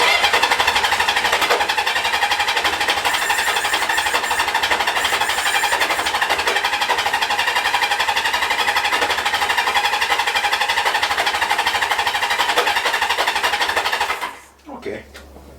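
A 1978 Kawasaki KZ650 motorcycle engine cranks over steadily with the choke on, a loud continuous whirring churn that carries for about fourteen seconds, then cuts off abruptly without catching.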